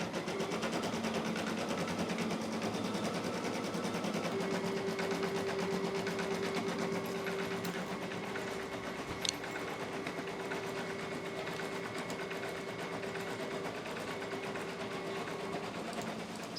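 A makerspace sewing machine, started with a foot pedal, stitches a design in a steady, continuous mechanical whir that runs the whole time with a sustained tone, near and fairly loud, with no talk over it.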